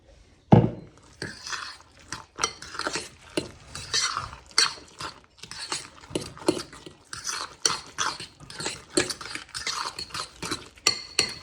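An egg is beaten in a cup with a fork or spoon, making rapid, irregular clinks and scraping taps that come in close, bright bursts throughout.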